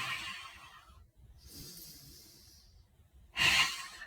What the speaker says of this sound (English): on the inhale, and the audible exhale